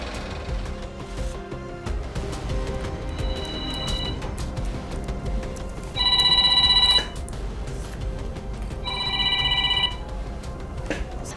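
A telephone rings out while a call is being placed, with three short bursts of ringing spaced a few seconds apart over a steady, murky room background.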